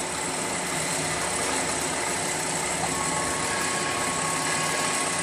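A Sinmic 2030 Trident ATC CNC router moves across its table, giving a steady, broadband mechanical whir and hum that holds constant throughout without any talk.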